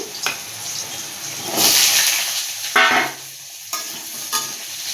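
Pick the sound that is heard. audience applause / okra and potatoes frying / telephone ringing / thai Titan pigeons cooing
okra and potatoes frying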